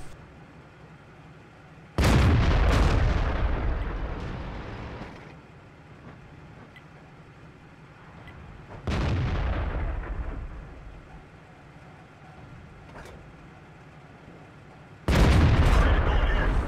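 Tank cannon shots from an AMX ELC bis light tank battle in World of Tanks on the Malinovka map: three loud, booming blasts, each with a long rumbling decay, spaced several seconds apart over quieter battle ambience.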